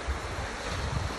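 Sea waves wash onto a beach on the Jurassic Coast as the tide comes in, a continuous broadband surf roar with low rumbling swells and some wind noise on the microphone, and no voices.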